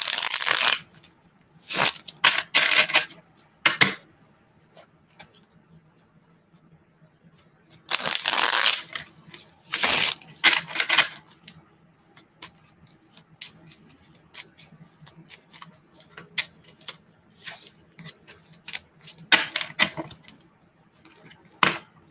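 Tarot cards with gold foil edges being shuffled in bursts of crisp riffling and flicking, with longer runs near the start and the middle and softer patters between, close by and without talk.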